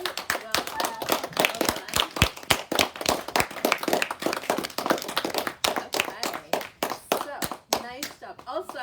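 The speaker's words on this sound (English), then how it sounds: "So once again, a huge round of applause." A crowd claps in a sustained round of applause, sharp hand claps rising and thinning out over several seconds, with some voices mixed in.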